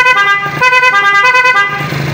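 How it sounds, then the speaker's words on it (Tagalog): A motorcycle horn fitted to a 2-stroke engine blares in short repeated honks with a bright, buzzy tone, loud and close, with no talking. "May ibang klaseng busina na yan."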